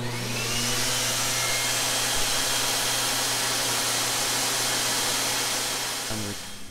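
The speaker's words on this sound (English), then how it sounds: "Blow the lines out for a bit." A powerful air blower forcing air through swimming pool return lines during winterizing, a loud steady roaring rush of air that holds constant for several seconds before a brief change and tapering near the end, with no talking.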